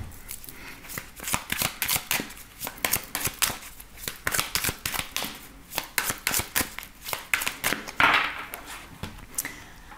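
Tarot cards being shuffled and cut by hand, a long run of crisp riffling and slapping card sounds in quick irregular bursts, close and clear with no voices.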